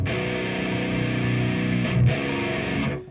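Distorted electric guitar played through a boost pedal into an Orange Super Crush 100 amp, a steady sustained chord ringing loud and close before a brief change and a fading tail.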